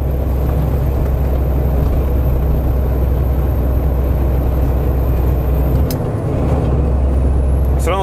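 Cab interior of a Ural Next truck tractor on the move, a loud steady low engine drone with road rumble, a sharp hiss of air release near the sixth second and a squeak at the end.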